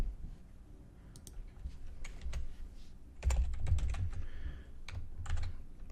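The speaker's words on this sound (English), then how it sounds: "So you're going to type in your school email on here." An email address being typed on a computer keyboard, with quick irregular key clicks, close and fairly quiet, in short clusters with small pauses.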